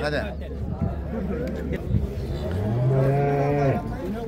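Cows moo nearby, one long drawn-out low moo standing out over crowd chatter and shuffling at a busy cattle market in Sungurlu, Turkey.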